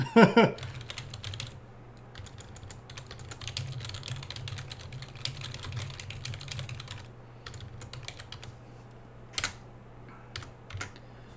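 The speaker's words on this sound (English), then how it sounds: "I'm typing a message right now to Vern." Typing on a computer keyboard, with quick irregular bursts of key clicks and occasional louder taps close by, continuing steadily over a faint background hum, with no talking.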